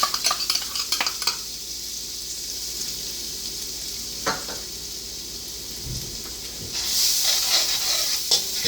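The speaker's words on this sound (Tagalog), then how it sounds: "Ikutin tong bawang." Garlic sizzling in cooking oil in a frying pan while being stirred, a steady close hiss with occasional utensil scrapes and taps, rising briefly louder near the end.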